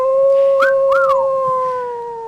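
A Tex Avery-style Looney Tunes cartoon wolf howls in two short rising-and-falling wails, loud and close, over a steady sustained tone, with no talking.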